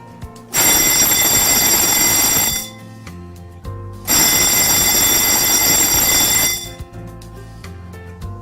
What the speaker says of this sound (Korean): 회로 시험 스위치를 한 개 회로씩 눌러서 화재 표시 등 주경종, 지구경종, 시각 경보기가 정상적으로 작동하는지를 확인합니다